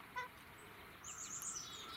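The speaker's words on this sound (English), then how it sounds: "We're also seeing a lot of rose-breasted grosbeaks now," Songbird calls ring out in a quiet outdoor setting where rose-breasted grosbeaks are present: a brief chirp early on, then a longer run of bright, warbling notes at moderate distance over faint background hiss.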